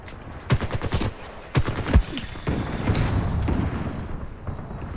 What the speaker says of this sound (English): I thought I was out of the range of those explosions